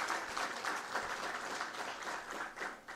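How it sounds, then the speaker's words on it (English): Applause from a gala dinner audience at a climate change summit, a faint, steady patter of many hands clapping at a distance. "Another warm round of applause for our MEC"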